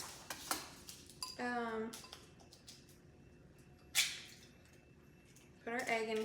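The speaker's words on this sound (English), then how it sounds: "put our egg in here, use the fork to whisk it around" A fork whisks an egg in a bowl for chicken nuggets: a few short bursts of clinking, scraping strokes against the bowl, separated by quiet gaps.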